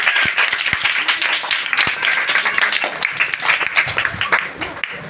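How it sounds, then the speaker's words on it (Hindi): Applause for Jesus Christ from a gathered crowd: a dense, loud wash of many hands clapping continuously, with a few sharper individual claps standing out. "जोरदार तालियां यीशु मसीह के लिए।"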